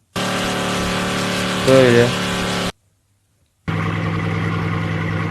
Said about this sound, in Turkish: Motor hemen motor seslerini dinleyelim